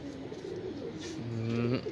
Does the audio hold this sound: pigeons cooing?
yes